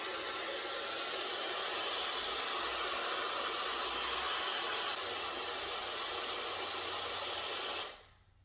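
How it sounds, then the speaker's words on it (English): A hair dryer fitted with a diffuser, used on curly hair, blows with a loud, steady rushing hiss for several seconds, then cuts off abruptly. "Now I'm going to get my blow dryer and I'm going to lift and diffuse"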